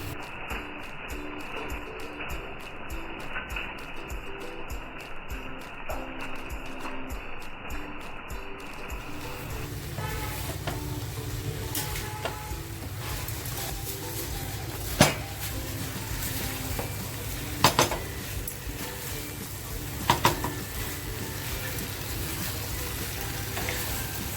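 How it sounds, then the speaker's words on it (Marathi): Fried prawns tipped into a hot pan of a homemade Indian-style Chinese dish, a steady loud sizzle of oil with a few sharp clanks of utensils against the pan, no talking. "आता जी कोळंबी फ्राय करून घेतली आहे ना ती कोळंबी मी याच्यात टाकणार आहे"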